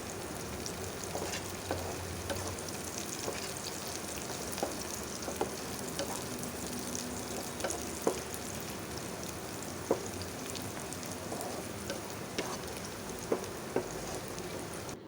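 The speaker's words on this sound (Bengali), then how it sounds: "পেঁয়াজটা একটু লাল লাল করে ভাজি করব, না হয় এর কাঁচা গন্ধটা থেকে যাবে।" Onions and green chilies fry in a pan with a steady, dense sizzle and occasional stirring clicks, close-up and continuous for the whole stretch, with no talking.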